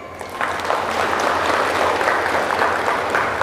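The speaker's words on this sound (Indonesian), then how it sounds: "Maka tepuk tangan buat panitia." Audience applause for the organizing committee at a school halal bihalal gathering, a dense steady patter of clapping that fills the whole stretch at close range, with faint voices mixed in.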